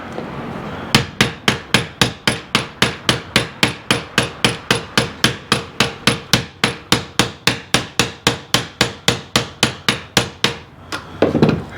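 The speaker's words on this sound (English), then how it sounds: "my littler tapping hammer, which I could have a lot more control of" A small tapping hammer strikes metal handrail stock in a fast, even run of about thirty sharp ringing taps, close and loud, with no talking.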